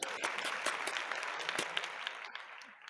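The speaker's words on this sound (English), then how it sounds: "round of applause" A studio audience gives a round of applause as a fitness trainer guest is welcomed onto a talk show, steady dense clapping holding for about three seconds before thinning slightly at the end.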